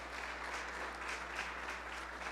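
A church congregation claps for the Lord during a Portuguese-language service, a steady, dense wash of applause lasting throughout, moderately distant with a constant low hum beneath and no clear talk.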